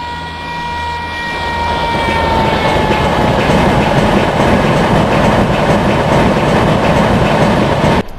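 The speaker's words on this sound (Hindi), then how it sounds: "12489 Bikaner Dadar western superfast express via भिल्डी, WDM 3D के साथ में।" A Bikaner–Dadar Western Superfast Express led by a WDM 3D diesel locomotive passes with a loud, steady rumble that builds in the first second, with a whining horn-like tone that fades early, then continuous wheel and engine noise to the end.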